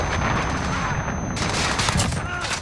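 A cruise missile strike in Modern Warfare lands as a burst of rapid gunfire and booming blasts, dense and loud, with a sharp intensification partway through, while voices chatter over it.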